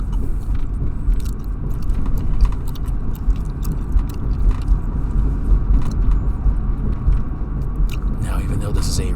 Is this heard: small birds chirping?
no